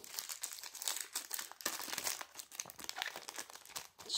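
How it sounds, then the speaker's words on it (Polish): Crinkly foil packets of Panini FIFA 365 2019 stickers being torn and ripped open by hand, a dense stream of close crackling and crumpling with no voice over it. "A teraz lecimy 5 saszetek z multipaka niemieckiego."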